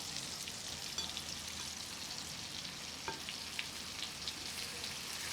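Pomfret fish fries quietly on a tawa over a low gas flame, a soft even sizzle with occasional light crackles and a faint scrape as a piece is flipped.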